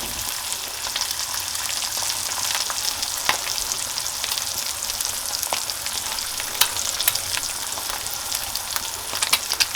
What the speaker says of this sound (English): I like to fry it first a little bit